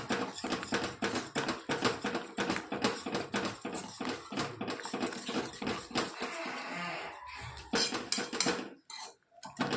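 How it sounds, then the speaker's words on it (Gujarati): A spoon stirs vegetables with coriander-cumin powder, garam masala and salt in a pan, producing rapid, rhythmic metallic scraping and clinking that runs nearly continuously before ending in a few sparse taps. "સરસ બધું આપણે મિક્સ કરી લઈએ."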